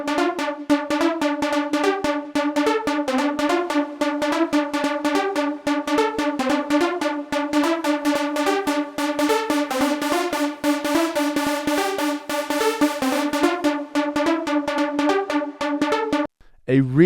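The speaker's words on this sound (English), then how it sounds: "A really, really typical trance sound" Trance synth patch with a subtle ping-pong delay and a touch of reverb, playing a fast, steady rhythmic pattern loudly and continuously before cutting off near the end.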